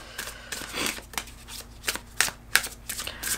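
Tarot cards are shuffled by hand close up, giving a quick run of soft riffling bursts and sharper snaps at uneven intervals against a quiet background.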